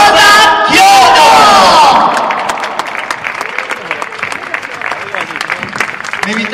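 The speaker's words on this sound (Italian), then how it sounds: "Meritati questi applausi." A festival crowd at the Maschio Angioino in Naples applauds and cheers loudly for the winner of a singing contest, with shouting voices at first that settle into steady clapping.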